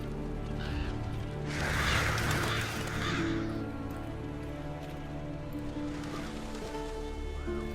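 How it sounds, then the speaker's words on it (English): Revolture scavenger birds in Monster Hunter: World give a flurry of harsh caws over a steady hiss like rain and a low sustained tonal bed, rising in the first half before settling into continuous ambience. "Seems the black birds are the culprits. Revoltures. They're scavenger birds that enjoy large monsters' leftovers."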